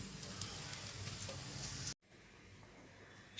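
Bread slices fry in a pan, giving a faint, steady sizzle with light ticking crackles that cuts off abruptly partway through and leaves only quiet room noise.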